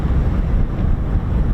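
Strong wind buffets the microphone at an outdoor VE Day airshow with a Eurofighter Typhoon and Lancaster bomber, a loud, continuous low rumble and roar with no talk in this moment.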